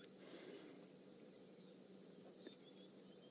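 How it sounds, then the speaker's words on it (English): Insects buzz steadily around a bush setting on an afternoon game drive, a continuous high-pitched drone holding at even, moderate loudness throughout with no voices over it. "Cicadas all around."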